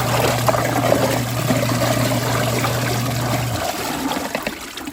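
A Rovsun portable washing machine runs with water and detergent inside, giving a steady churning, sloshing wash with a low motor hum that cuts out near the end, close and continuous with no talking.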